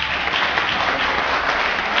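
An audience applauds at a stage event, a dense, steady burst of clapping close and loud for about two seconds.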